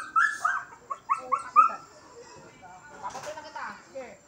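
Several pet dogs bark in a quick burst of sharp yaps up close, five or six barks within the first two seconds, then quieter mixed noise follows.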